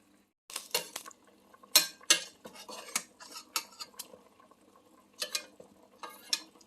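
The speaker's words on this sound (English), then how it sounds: "We're gonna stir it up." A pot of chicken adobo with ginger and garlic being stirred with a metal utensil, giving close, crisp clinks and scrapes against the pot in quick irregular clusters, with brief pauses between.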